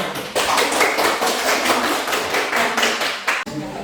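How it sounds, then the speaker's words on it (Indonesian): A classroom of students claps their hands together in quick, sharp, roughly rhythmic bursts, loud and close, continuing for a few seconds before a brief pause and a final few claps. "Tepuk tangan."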